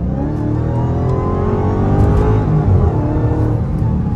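A 2022 Dodge Hellcat Redeye on bald tires accelerates hard in eco mode, its engine heard close and loud from inside the car as a steady deep drone that swells slightly as revs climb, with no talking.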